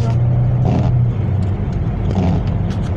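Cars driving past on a rainy road, a loud, steady tyre and engine rumble with the hiss of passing vehicles close by and no talking.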